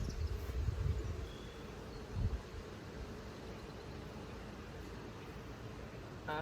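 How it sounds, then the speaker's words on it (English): Honey bees buzzing inside a full hive, a dense, steady hum at low volume holding constant throughout, with a few louder bumps near the start. "There's a whole lot of bees in there."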